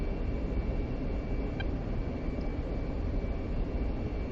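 A jet rolls out on the runway under wheel braking after landing in the DCS World flight simulator, heard as a steady, dense engine and rolling roar that holds constant with no voices.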